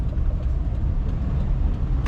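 Buses and other motor traffic rolling past on a road, a continuous loud low engine rumble with a brief hiss near the end, no talking.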